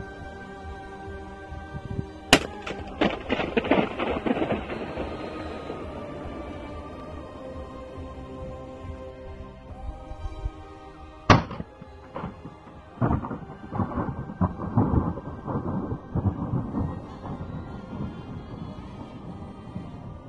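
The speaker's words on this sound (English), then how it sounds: "Here is a video of a guy blowing a balloon inside a nuclear power plant." A balloon popped inside a nuclear power plant, slowed down: deep booms roll out with long rumbling tails, two sharp cracks followed by drawn-out reverberant decay, sounding much like distant thunder.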